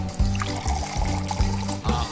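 Olive oil pours from a bottle into flour, water and eggs for homemade pasta dough, a short run of close, rhythmic glugs and trickling.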